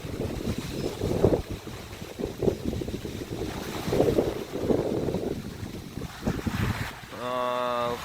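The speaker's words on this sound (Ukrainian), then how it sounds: "вітру достатньо, ну, не 20 метрів, але неприємний" Strong wind gusts over the Dnieper river during feeder fishing, buffeting the microphone in uneven surges over choppy waves, with a brief whining tone near the end.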